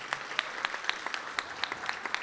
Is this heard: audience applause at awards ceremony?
yes